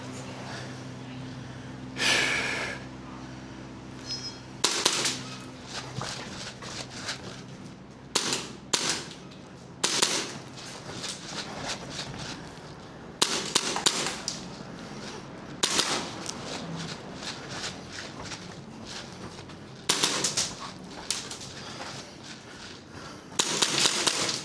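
Pistol shots on a timed shooting stage run, sharp cracks fired in quick bursts of two or three, repeating through the run with quieter shuffling and breathing between strings.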